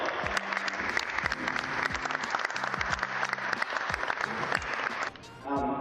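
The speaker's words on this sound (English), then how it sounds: "Let's give it a round of applause one more time for these Laura and Camilla." A crowd at a school community event claps in a round of applause for two honorees, dense and steady for several seconds before the clapping thins as a sustained tone rises at the end.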